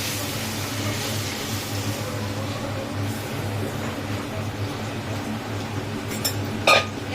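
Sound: frying masoor lentils in a pan with jute leaves

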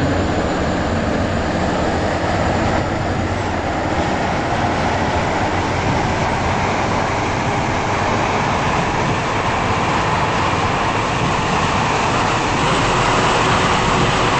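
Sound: train running in a video game

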